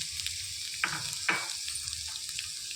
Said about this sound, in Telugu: ఉల్లిపాయలు వేసుకొని వేయించేసుకోవాలి.